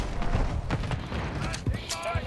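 Gunfire in a Call of Duty MW3 multiplayer match, a few sharp shots and bursts scattered across a busy, steady game mix, with talk over it.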